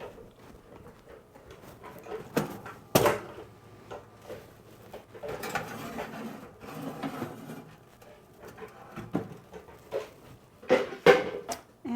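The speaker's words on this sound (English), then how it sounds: "There it is, and it's going into the oven." A cake pan of Louisiana fig cake is slid into an oven, with scattered clanks, metallic knocks and rack scrapes, a sharp thump, then several clattering bangs as the oven door shuts, close by and without speech.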